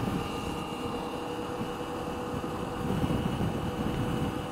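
A KTM 790 R motorcycle engine hums steadily during gentle street riding at light throttle, a continuous mid-level drone mixed with wind rush, with no talking.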